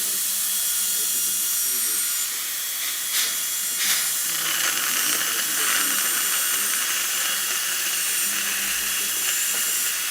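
A dental drill with a carbide bur trims a porcelain veneer, giving a steady high-pitched whine with hissing air and water spray that runs continuously throughout, with brief sharper spikes.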